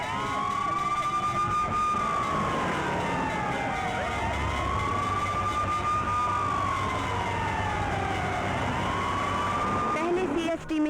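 Wailing ambulance and police van sirens rise and fall in long sweeps, loud and continuous, layered over a dense rumble of street noise and traffic.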